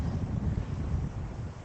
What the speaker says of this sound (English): a bit windy down here